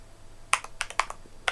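Computer keyboard keys pressed in a quick, uneven burst of sharp clicks, close and clear against quiet room noise, with no talking.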